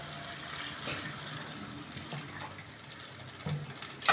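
Water pours into a pan of cooking mutton korma, a steady close splashing stream that thins out before a couple of louder knocks at the end.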